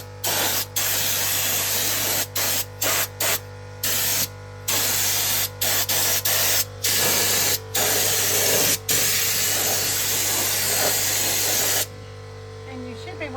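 Undercoating spray hisses onto the underside of an Ohio truck raised on a shop lift, coming in bursts of steady close spraying separated by short pauses, with a constant low hum underneath throughout.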